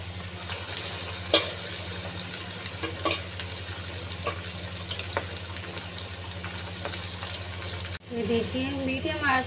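Mutton chaap frying in a pan over a medium flame gives a steady, close sizzle with crackles and small pops, then a brief stir or clatter near the end.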